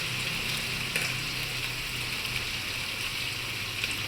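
Chicken pieces frying in hot oil in a home kitchen give a steady, soft sizzle and crackle, fairly quiet and continuous, with small pops scattered through.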